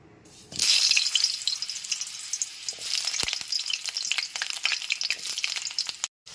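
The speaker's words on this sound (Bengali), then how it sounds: "এবার এতে দিয়ে দিচ্ছি দুটো মাঝারি সাইজের আলু আলুটাকে ঠিক এইরকমভাবে কেটে নিয়েছি এবার আলুটা ভেজে নেব" Two medium cut potatoes drop into hot mustard oil in a wok and fry with a loud, steady sizzle, stirred now and then, close up and without speech.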